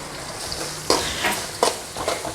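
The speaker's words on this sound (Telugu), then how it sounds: "ఇప్పుడు బాగా వేయించుకోవాలి." Onions frying with turmeric powder in a pan for a homemade fish gravy, a soft continuous sizzle broken by a few sharper scraping stirs near the mic, with no voice.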